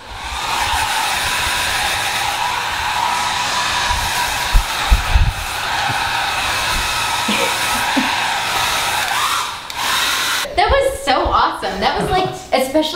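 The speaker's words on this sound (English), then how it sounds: "especially with the blow dryer" A hair blow dryer runs steadily and close by for about ten seconds while someone is dried off, a continuous loud whooshing hum, then cuts out as people start talking.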